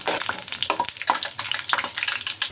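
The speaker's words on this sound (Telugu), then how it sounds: "ఇప్పుడు 1/4 టీ స్పూన్ మెంతులు వేసుకుందాము. అలాగే 1 స్పూన్ పచ్చెనగపప్పు వేసుకుందాము. ఫస్ట్ ఇవి మనకి వేగాలి" Fenugreek seeds and chana dal frying in hot oil, a close, continuous crackle with scattered sharp pops and sizzles.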